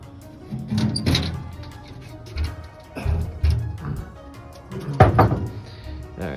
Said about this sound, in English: Alright, so that door's a little stuck.